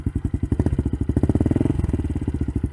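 A 2020 Honda CRF110F dirt bike fitted with a Yoshimura exhaust idles and runs nearby, its small single-cylinder engine throbbing in a steady, rapid chugging pulse that rises slightly in the middle of the stretch.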